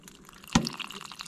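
Hot water running from the tap of a water tank on a wood stove inside a hot tent during -51C winter camping, heard as a brief close trickling splash with a sharp drip at the start.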